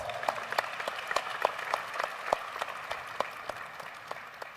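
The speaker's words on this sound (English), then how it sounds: "They deserve another round of applause." Audience members applaud for a national team, a fairly quiet patter of clapping with distinct individual claps standing out over a soft, thin background, steady and moderately distant.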